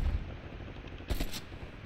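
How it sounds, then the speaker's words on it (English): Short bursts of AK rifle fire in a shooting game, a low thump at the start, then a sharp, bright crack of shots around the midpoint, moderately distant and without speech. "He's using the AK too."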